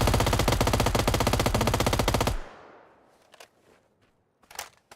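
A rapid automatic burst of gunfire in the PUBG video game, loud and close, lasting a couple of seconds before stopping abruptly, followed by a few faint scattered shots and footstep-like thuds.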